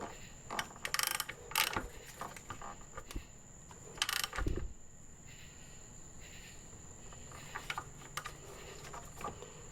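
A ratchet retightens a loose part under the hood of a 2002 Ford Focus ZTS, with a few short bursts of clicking and metallic handling over a steady high whine.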